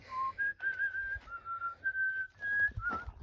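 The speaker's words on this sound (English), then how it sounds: "I heard whistling, which I recognised." A man whistles a tune outdoors at an off-grid pig farm ruin, clear sustained notes in short phrases with brief pauses, fairly close and alone without talk.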